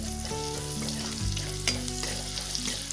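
Garlic paste frying in a hot pan for egg curry, a steady close sizzle with light stirring scrapes running throughout, no voices.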